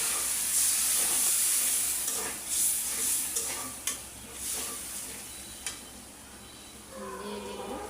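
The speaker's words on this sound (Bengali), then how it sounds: "এখন আমি একটু পানি দিয়ে মশলা দেব।" Ginger and garlic frying in a pan for a pabda fish curry with potato and beans, with a steady sizzle, stirring scrapes and a burst of hissing as water is added, close and alone without talk.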